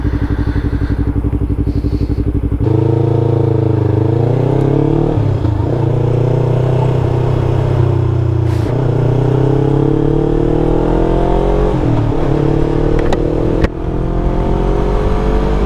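A Yamaha R3 motorcycle engine drones loudly while riding, its pitch rising and falling through gear changes under heavy steady wind noise, with no talk.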